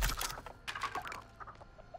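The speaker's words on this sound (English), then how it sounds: "She triggered the damn chicken." A chicken in The Texas Chainsaw Massacre video game clucks in quick, faint bursts against a backdrop of soft clicking.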